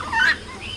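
A single brief call from a chicken, a short squawking cluck, sounds nearby against a quiet background.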